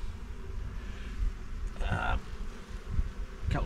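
Honey bees buzz in an open hive during an inspection, a close, continuous hum that rises and falls throughout.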